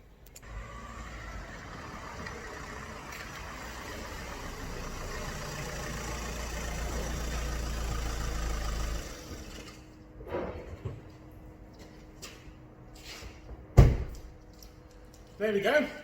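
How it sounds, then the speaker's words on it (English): A car engine idles after a subframe was refitted and swirl flap damage repaired. The idle is a steady, fairly close low hum for about nine seconds, then cuts off, followed by a few sharp knocks and handling noises. "Engine runs perfectly sweet."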